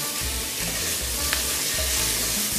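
Fish maw stir-fried with aged ginger and goji berries in sesame oil, giving a loud, steady sizzle with occasional scrapes of the stirring utensil in the pan.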